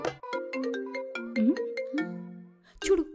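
A mobile phone rings with a melodic electronic tune of plucked-sounding notes. The ringtone is loud and close and plays for about three seconds, ending in a brief sharp burst.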